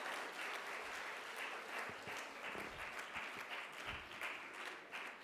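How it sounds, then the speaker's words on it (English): Debate competition grand-finals audience applauds the master of ceremonies, a steady, fairly faint wash of many hands clapping from a distance, sustained without a break. "A round of applause for Master of Ceremonies"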